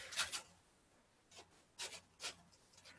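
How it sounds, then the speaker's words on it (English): Scissors cut small paper strips for decoupage Easter eggs in quiet, brief rasping snips, several separate cuts spaced apart, close and soft with no talking. "So I'm just going to go ahead and start cutting some small strips."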